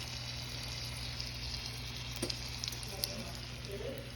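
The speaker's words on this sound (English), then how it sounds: "These are my meatballs. They're gonna go in here to brown. You hear that?" Turkey meatballs browning in a pan, a steady soft sizzle and crackle with a few small pops, close and fairly quiet throughout.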